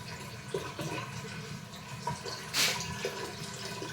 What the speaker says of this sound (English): Sometimes it's just dripping, and sometimes it's really shooting out.